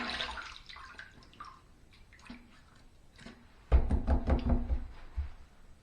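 Rinsing a Parker 96R safety razor under a running tap, faint taps and dribbles at first, then a louder gush of splashing water with clinks against the sink.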